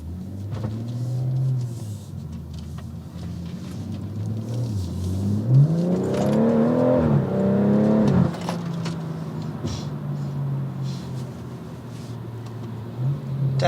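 A Mini Cooper accelerates alongside on the road. A close engine rumble rises into a revving surge that peaks for a few seconds, then falls back to a steady drone under road noise.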